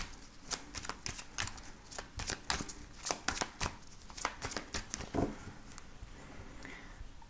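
Oracle cards from the Amethyst Love Oracle deck being shuffled by hand, a close, soft run of papery riffles and flicks repeating in quick bursts, with no talking.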